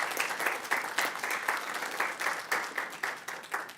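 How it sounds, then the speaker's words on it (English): A small group at a city council meeting gives a round of applause: clearly separated, rhythmic claps from a modest number of hands, fairly close and steady for several seconds. "Can I get a round of applause?"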